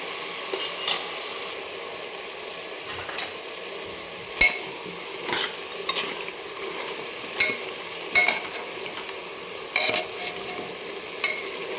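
Mutton sautés with salt and turmeric in a pot, a steady low sizzle broken by regular sharp clinks and scrapes of a spoon stirring against the metal.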